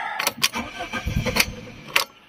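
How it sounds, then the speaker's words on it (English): A 1990s Fiat car engine cranks with several sharp, repeated bursts and a low rumble, trying to catch but failing to start, fairly close and moderately loud. "So let's start the car again."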